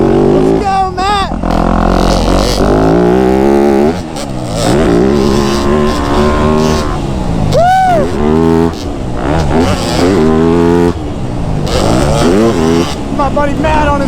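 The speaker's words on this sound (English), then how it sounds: "My buddy Matt on his YZ250 two-stroke." Yamaha YZ250 two-stroke dirt bike ripping through ruts and corners on a motocross track, its engine revving and rising and falling in loud, rapid pitch sweeps up close, with a rider talking over it throughout.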